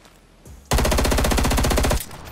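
A rapid-fire weapon in Call of Duty Black Ops Cold War lets off a loud, fast burst of evenly spaced shots lasting over a second, after a short mechanical click, then stops abruptly.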